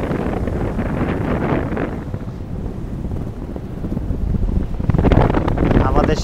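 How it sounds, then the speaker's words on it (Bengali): Steady wind gusting across a moving ship at sea in the Red Sea, a continuous low rushing roar buffeting the microphone, with a swell of louder gusts near the end. "আমাদের শিপে যে বাতাসটা আসতে এখন ফেস করতেছি সেটাও আমাদের শিপের পেছন থেকে"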